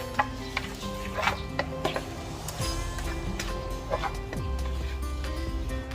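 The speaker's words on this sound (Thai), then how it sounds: "แล้วก็ใส่ต้นหอมนะคะแล้วก็คนส่วนผสมให้เข้ากันนะคะ" Corn fritter batter with spring onions being stirred in a bowl, giving soft, repeated scraping and light clinks over a steady background tone.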